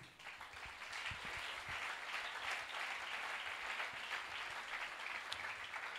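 A church congregation applauds at a sermon on marriage with a faint, steady patter of many hands clapping together, heard from a distance and sustained throughout.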